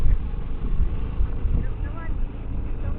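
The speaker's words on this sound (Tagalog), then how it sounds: "Ang lakas ng hangin dito," Strong wind blowing at a campsite, a steady loud rush buffeting the microphone throughout with low rumbling gusts and no pauses.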